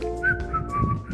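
A person whistles a cheeky, playful little tune, a few quick wavering notes over a low background murmur, close and clear.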